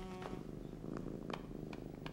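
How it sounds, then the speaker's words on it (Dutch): A cartoon cat purrs steadily and softly up close, a continuous low rumbling vibration with faint higher flutters, with no talking. "Hij is aan het spinnen."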